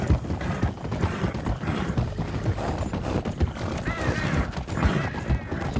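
A horse in the Red Dead Redemption 2 video game, hooves clip-clopping and a whinny rising over them, with a voice talking faintly underneath.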